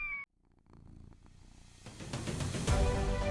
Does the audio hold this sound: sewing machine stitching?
no